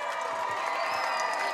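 A crowd at a high school football game applauds and cheers for local Boston Marathon runners, a short, steady wash of clapping and voices mixed with tonal background sound.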